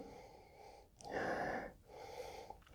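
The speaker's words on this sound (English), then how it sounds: "So let me just take a sniff of the aroma." Someone sniffing the aroma of a hazy New Belgium Voodoo Ranger Juicy Haze IPA, one long close inhale through the nose between quieter breaths.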